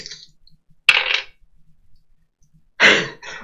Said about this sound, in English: That ASMR dice roll.